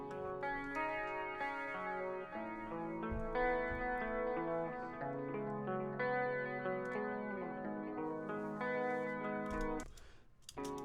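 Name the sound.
raw picked electric guitar straight from effects pedal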